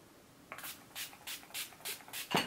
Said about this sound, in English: So I'm going to give my skin a good spray with this